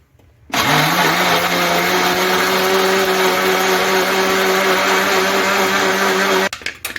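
An electric blender whirs for about six seconds while mixing tea cake batter with baking powder. It starts abruptly with a loud steady motor drone and then cuts off near the end, with no talking.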